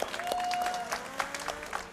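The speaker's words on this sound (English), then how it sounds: "That deserves a clap." Scattered handclaps at a speedrun event, a few quick claps rather than a full crowd, heard over a steady background hum.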